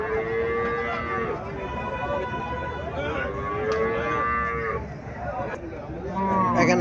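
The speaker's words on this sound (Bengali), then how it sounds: "এখানে একটা গাভি দেখা যাচ্ছে দেশি গাভি" A local cow moos in long drawn-out calls, repeated several times at moderate distance, with a busy outdoor cattle-market background and some voices around.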